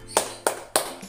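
Three crisp hand claps sound close and evenly spaced, about three per second, in an Indonesian children's clapping game, followed by a faint softer tap.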